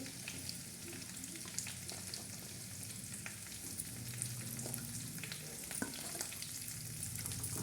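Chickpeas frying with red chillies and garlic paste for a snack, a steady close sizzle broken by scraping stirs throughout, with no voices.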